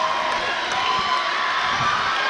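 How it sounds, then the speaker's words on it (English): South Seneca fans at a girls high school basketball championship against Oakfield-Alabama roar steadily in a gym, with a dense, sustained wash of cheering and shouting and no pauses. "Listen to the South Seneca crowd start to erupt."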